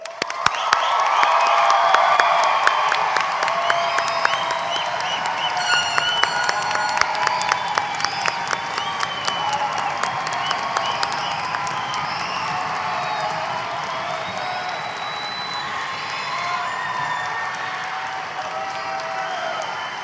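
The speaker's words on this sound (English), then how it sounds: "let's have an even bigger round of applause for our graduates" A large audience at a nursing pinning ceremony for Brookdale Community College's fall 2019 graduates gives sustained, dense applause with scattered cheers. It starts loud and eases slightly over twenty seconds.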